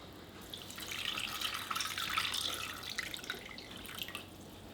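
Water poured into a pot for a sweet syrup with brown or cane sugar, about one litre, a soft steady trickling stream building then easing, close and moderately quiet, with no talk.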